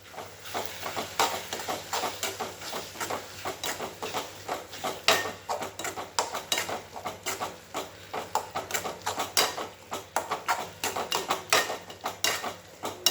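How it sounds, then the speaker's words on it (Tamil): Chili powder is stirred into dried fish thokku in a pan with a rapid, continuous patter of scraping and tapping strokes, moderately loud and close, with no talk. "போட்டு நல்லா இதை கிண்டி விட்டுறலாம்."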